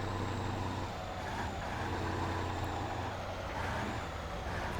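Classic 1940s Russian Gaz truck engine in the off-road driving game Spintires, a steady loud diesel drone with low rumbling throughout, no breaks or talk.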